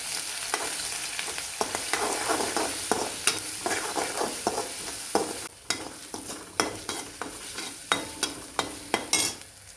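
Hot oil sizzles steadily as whole spices (cardamom, cloves, bay leaf) and ginger-garlic paste fry for Kolhapuri mutton white curry, with a series of sharp scraping and clinking stirs that grow more frequent toward the end.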